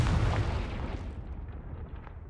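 A Confringo blasting spell explodes in Hogwarts Legacy, a loud broadband boom that starts strong and slowly decays into a rumbling tail over a couple of seconds, with no talk over it.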